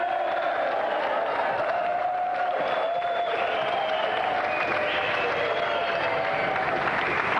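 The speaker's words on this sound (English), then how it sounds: "Another round of applause for our champion, Chevron Hart!" Steady applause from a large television studio audience, dense clapping with scattered cheers running continuously throughout.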